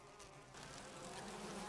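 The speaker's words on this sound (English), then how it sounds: "Are the bees coming through?" A swarm of bees buzzes continuously in the Resident Evil remake, a dense, steady drone that swells slightly louder partway through and carries on without any talk over it.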